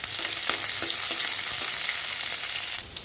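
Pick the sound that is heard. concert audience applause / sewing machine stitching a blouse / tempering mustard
tempering mustard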